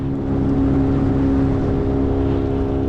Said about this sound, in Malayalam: ഒരു ചെറിയൊരു ബോട്ട് റൈഡാണ് നമ്മൾ ഊട്ടിയിൽ ആസ്വദിച്ചു കൊണ്ടിരിക്കുന്നത്